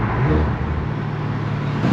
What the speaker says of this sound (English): we're driving the car right now